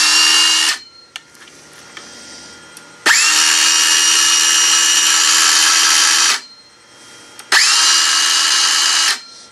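A Makita XSS03Z cordless circular saw spins up with a sharp whine and runs loud and close in three bursts, each settling into a steady high motor tone before winding down, with quiet gaps between.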